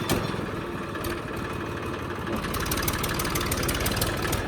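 An old Swaraj 855 tractor engine running at about 1000 RPM, a loud, close, steady diesel chug with a knocking, rhythmic beat that grows slightly busier toward the end, with no speech.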